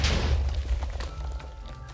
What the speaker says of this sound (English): Oh my gosh, infinite explosion.